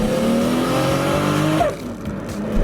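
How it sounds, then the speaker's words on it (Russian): Toyota Supra turbo engine revving under load, the pitch climbing steadily before dropping sharply at a gear shift with a brief hiss from the wastegate, then building again. "А когда переключаешься, то звук Визгейта"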